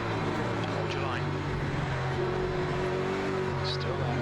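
Mustang and BMW GT3 race cars in Le Mans Ultimate, engines droning with rising and falling pitch as they pull away down a straight, a steady near engine tone with a voice talking over it.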